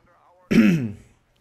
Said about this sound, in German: Ich muss mich mal kurz räuspern.